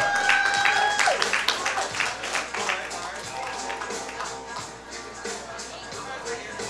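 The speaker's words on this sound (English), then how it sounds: "Can we please get a round of applause for Jay Bookworm, your featured poet for the evening" Audience applause at a community art and coffee night for the featured poet, a burst of clapping with a few voices that gradually thins and fades.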